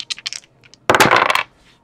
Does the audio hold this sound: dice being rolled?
yes